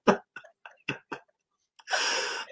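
A few soft clicks and breaths, then a single sharp, hissing sneeze bursts out close by near the end.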